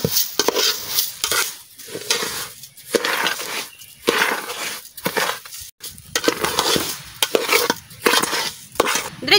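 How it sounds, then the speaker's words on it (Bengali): Rice being stir-fried in a pan for jackfruit biryani, with repeated scraping and stirring strokes over a steady sizzle, close and fairly loud, in uneven bursts with short pauses. "চালটা একটু ভাজা করে নেব।"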